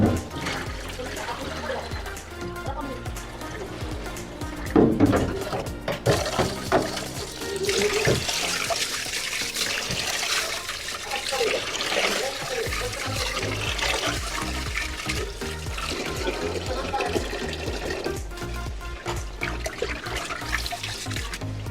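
Cold water runs and splashes steadily while sushi rice grains are swished and rubbed by hand, with a brief louder slosh partway through.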